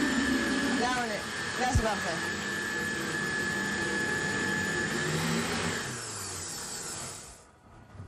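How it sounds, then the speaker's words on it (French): A blender whirs steadily, mixing grain with a little milk in the mixer bowls. The motor is loud and continuous under a brief spoken remark, then winds down near the end. "on va tout mettre dans les bols de mixeur et on va mixer avec un petit peu de lait"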